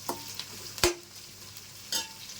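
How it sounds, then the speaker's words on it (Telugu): Onions frying in oil in a pan over high heat for a Nellore-style mango fish curry, a soft steady sizzle broken by a few sharp utensil knocks and stirring scrapes, close by with no talk. "ఉల్లిపాయలు కొంచెం మగ్గేంత వరకు వేయించుకోవాలండి"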